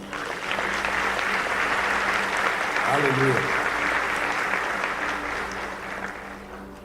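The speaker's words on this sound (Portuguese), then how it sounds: "Você pode aplaudir a Jesus?" Congregation applauding during a church service, a steady wash of clapping that fills the room throughout, with a brief sung or called-out voice partway through.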